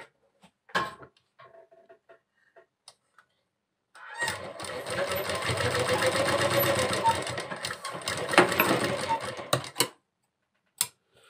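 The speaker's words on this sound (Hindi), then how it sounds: "मशीन पे दोस्तों गले को कपड़े के ऊपर इस तरीके से रख देना है और एक तरफ हल्की से सिलाई लगा लेनी" A sewing machine stitching a neckline onto fabric runs in a steady continuous whir for several seconds, with brief clicks and handling sounds before and after.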